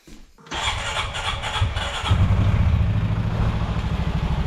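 A turbocharged Honda Pioneer 500 side-by-side with an exhaust extension cranks briefly, fires, and revs before dropping into a throbbing, rhythmic idle, loud and close.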